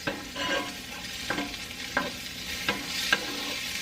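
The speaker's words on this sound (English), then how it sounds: "I just want the bacon to be rendered some, well, cooked good" Bacon and onions frying in a pan, a steady close sizzle broken by a few sharp scraping stirs of a utensil against the pan at regular intervals.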